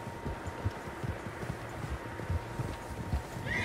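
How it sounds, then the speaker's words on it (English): Several horses' hooves clip-clop in an uneven, continuous rhythm in Red Dead Redemption 2, fairly faint and mid-distance under a low ambient hum. "Horses, quite a few of them."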